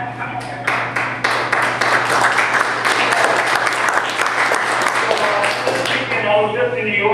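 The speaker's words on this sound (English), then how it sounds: "give me a round of applause" A round of applause from an audience at a weekly agent meeting, a few scattered claps swelling into steady, fairly close clapping that thins out toward the end, with talking mixed in.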